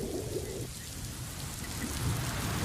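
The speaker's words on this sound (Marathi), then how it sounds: "अक्षय जालन्यामध्ये मुसळधार पावसामुळे शेतातले बांध फुटलेले आहेत" Heavy rain pours steadily over farmland in Jalna in a dense wash of noise, with low rumbling underneath like distant thunder.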